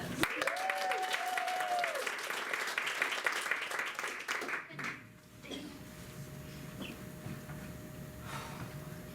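A small improv show audience claps and cheers after a flat-tire suggestion, a dense burst of applause for about five seconds that stops abruptly, followed by quieter room sound and faint talk.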